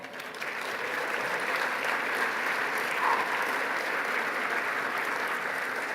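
An audience at a statesmanship awards dinner breaks into sustained applause, a dense, even wash of clapping from a large room that holds steady for several seconds, with no voices.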